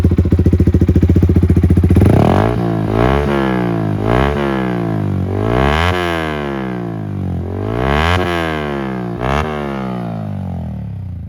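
A loud, throaty full-system exhaust on a modified Yamaha R15 V4 motorcycle putters at idle, then revs up and drops back again and again, each rise and fall sweeping sharply in pitch.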